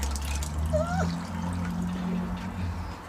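Vinegar weed-killer liquid poured into a container, a continuous close splashing gurgle with a brief higher squeaky sound partway through.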